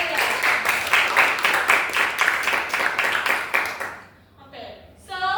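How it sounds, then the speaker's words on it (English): Students in a classroom clap steadily in a brief burst of applause, close and fairly loud, which stops abruptly and gives way to a teacher's speech. "Give applause to Delia."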